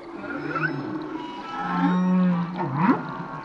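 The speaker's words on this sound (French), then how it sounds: "j'écoute un chant de baleine à bosse que j'ai enregistré dans le parc marin de Mohéli" Humpback whale song recorded underwater off the islets of Mohéli marine park: drawn-out moaning calls with rising and falling sweeps and a long low hum, loud and close, with no other sound around them.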